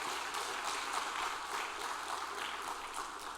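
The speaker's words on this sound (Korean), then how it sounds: "우리 시온 찬양대 격려 박수로 한 번 더 격려하겠습니다" Congregation applause in a church during a Sunday service, honoring the choir; steady, fairly faint clapping from a crowd that fills the whole stretch without pause.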